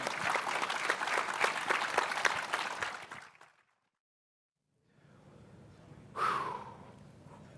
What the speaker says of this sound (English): Let's get a huge round of applause for Andrew Poelstra